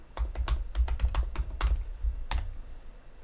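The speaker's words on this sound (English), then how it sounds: "I'm just going to type in isovanillin." Someone types a chemical search term on a computer keyboard, with a quick burst of close key clicks, a short pause, and one final keystroke.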